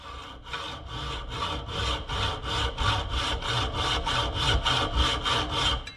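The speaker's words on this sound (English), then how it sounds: "This time, I'm going to try just a hacksaw." A hacksaw cuts on a minitruck, rapid even back-and-forth strokes rasping close up, steady rhythmic sawing about two strokes per second, no talking.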